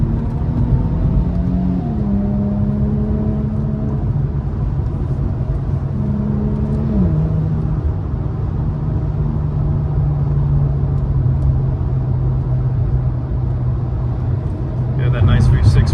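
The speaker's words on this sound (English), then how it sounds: "that nice V6 roaming right there" A 2018 Infiniti Q50 Red Sport V6 accelerating on a highway, a loud continuous low engine drone with rising tones and a couple of gear shifts under constant road rumble, with someone talking over it.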